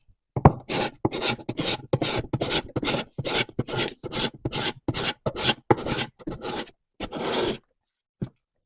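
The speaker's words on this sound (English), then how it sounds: "And if we want to see how long it's going to take with this scraper" Repeated scraping strokes of a Metabo LF 850 S paint remover's scraper dragged across a floor, about fifteen quick rasping passes in a steady rhythm, loud and close, with no talk.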